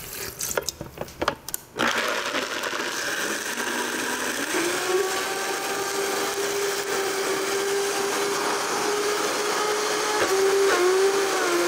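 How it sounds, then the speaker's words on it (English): A kitchen blender whirs through cashews and water for a cream dressing. A few clattering knocks come first, then a loud, steady motor whine that rises in pitch and runs continuously. "And water, and that's it in the blender."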